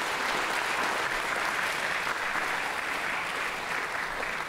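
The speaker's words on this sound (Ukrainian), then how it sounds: "Давайте поплескаємо цьому чоловіку." Steady, dense audience applause fills a stand-up comedy show venue, loud and continuous throughout with no break or voices standing out.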